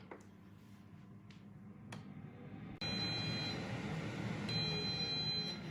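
Short electronic beeps from an air fryer timer sound in a couple of bursts over a steady background hum, clear but not loud.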